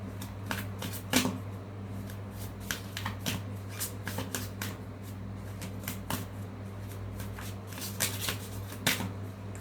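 Tarot cards being shuffled by hand, with a run of crisp riffling snaps and flutters, some cards slipping loose, fairly quiet and close over a low steady hum, no talking.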